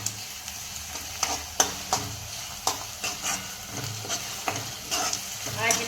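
Onions frying with ginger-garlic-chili paste in a pan for soybean chunk curry, a steady close sizzle broken by repeated scraping stirs of a spoon, with no talking.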